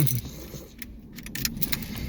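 Car keys jangle close by inside a third-generation Camaro or Firebird, a bright metallic rattle in short bursts over a low idle-like rumble, with no talking.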